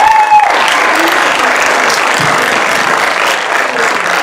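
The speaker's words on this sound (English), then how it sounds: "Give him a round of applause." Sustained applause from an outdoor high school commencement crowd honoring the senior drum major of a marching band, steady and dense throughout with a brief tone near the start.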